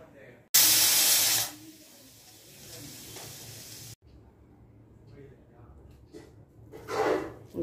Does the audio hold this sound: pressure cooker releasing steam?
yes